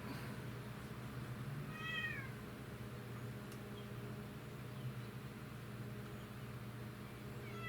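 A cat meows once, a short rising call at a distance, heard faintly over a low steady background hum in a quiet space.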